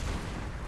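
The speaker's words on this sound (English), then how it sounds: "I try not to spam my cannon too much, but sometimes I just can't resist." A hunter's cannon fires in the Bloodborne video game, a short, dense, booming blast heard at moderate volume with heavy low rumble.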